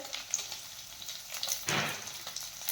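Cauliflower, capsicum and carrot frying in a pan sizzle steadily up close, with a louder burst of hissing partway through and no speech.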